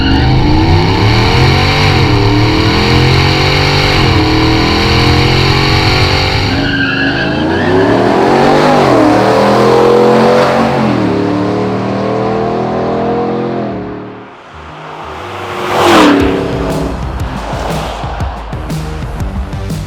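A supercharged Chevrolet Silverado truck, the Walkinshaw x Harrop TVS2650 Fury build, runs on a drag strip: a loud, close engine roar revving and rising in pitch through gear changes, with a brief dip before roaring again.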